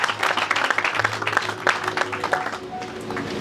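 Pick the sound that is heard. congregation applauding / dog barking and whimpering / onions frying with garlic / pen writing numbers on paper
congregation applauding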